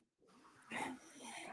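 A dog whimpers and whines close by, a brief, faint, high-pitched cry that rises after a moment of silence and trails off.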